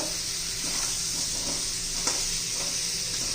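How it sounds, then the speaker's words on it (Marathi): Potato and stalk pieces sauté in hot oil with a dense, continuous sizzle and faint stirring scrapes, close and steady, with no talking. "छान असं तेलामध्ये परतून घ्यायच्या सगळ्या फोडी"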